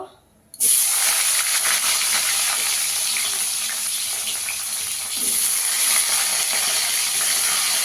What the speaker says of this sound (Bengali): এবার এই তেলে আমি আলুগুলো আগে ভেজে নেব।